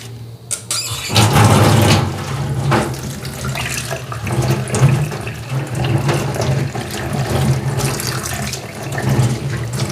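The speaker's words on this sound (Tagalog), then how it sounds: "hugasan natin tong dahon ng ating makabuhay dahil may mga buha-buhangin po ito" Makabuhay leaves being rinsed under a running tap, a steady loud stream of water splashing into a sink with shifting splatter as the leaves are turned, no talking.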